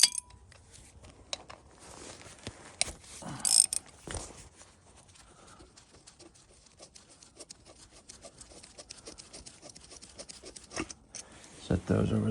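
A ratchet and wrench work loose the caliper bracket bolts on the front brake of a 2008 Nissan Pathfinder R51, making scattered clicks and metallic rubbing beneath someone talking nearby.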